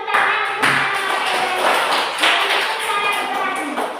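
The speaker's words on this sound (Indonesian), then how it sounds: "kita tepuk tangan untuk" Children in a classroom clap their hands in short rhythmic bursts, mixed with their chanting voices, fairly close and moderately loud.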